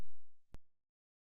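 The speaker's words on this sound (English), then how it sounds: "one short beep means post checks have been completed and nothing was detected" A single short startup beep from a computer completing its POST checks, heard once, close and clean, followed by a brief quieter tail.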